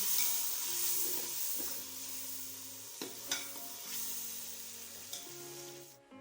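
Chana pulao ingredients sizzle steadily as they fry in a pot, with a few sharp clinks and scrapes of stirring breaking through the continuous hiss.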